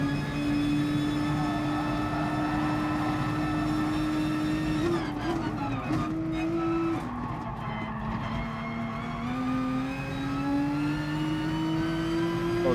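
A race car engine in the video game Gran Turismo Sport hums loudly and continuously. Its pitch dips and shifts through gear changes midway, then climbs steadily again as the car accelerates.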